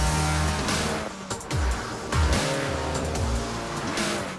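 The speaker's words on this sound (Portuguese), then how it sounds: "A edição John Cooper Works é o carro mais rápido que a Mini já fez." A Mini John Cooper Works with a twin-turbo 2.0-litre, 228-horsepower engine roars hard and steadily, its revs rising and falling, with a faint tyre squeal under the loud engine.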